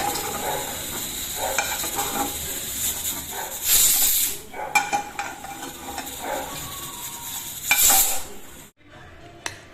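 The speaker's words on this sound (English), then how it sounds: "Heat some oil in a pan and then fry the potatoes. Deep fry them till they turn brown on both the sides." Potatoes deep frying in hot oil in a pan for chana chaat, a steady crackling sizzle with surges of bubbling and occasional utensil stirring, ending abruptly.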